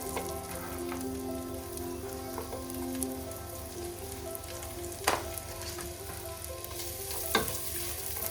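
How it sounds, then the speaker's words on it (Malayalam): Palak spinach paste fries in oil with a soft, continuous sizzle and bubbling, faint and close, marked by a couple of sharp clinks from stirring. "വെച്ചിരിക്കുന്ന പാലക്കിൻ്റെ മിക്സ് അതിലേക്കിട്ട് നല്ലപോലെ എണ്ണ തെളിയുന്നത് വരെ വേവിച്ചെടുക്കണം."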